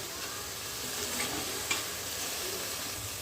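Chicken cooking without oil in a pan, giving off a steady close hiss of steam and sizzle throughout, with a faint clink near the end and no voices.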